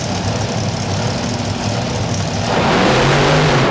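Monster trucks Tailgator and Bounty Hunter roar with loud, steady engine revving at a Kansas City arena event, the pitch climbing and swelling louder toward the end.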